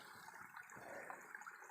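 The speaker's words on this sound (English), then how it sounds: "a good flow of water here now" Creek water flowing steadily over granite bedrock at a dug-out gold prospecting site in Northern New South Wales, a faint, continuous gushing wash.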